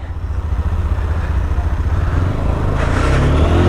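A motorbike rides along a hilly road between Kaptai and Chittagong, its engine droning loud and close with a steady low rumble that builds slightly toward the end, accompanied by wind and road noise.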